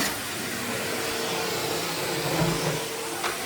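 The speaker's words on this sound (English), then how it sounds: "Even if it is mainly a vacuum cleaner." A vacuum cleaner runs with a steady, loud whirring drone throughout.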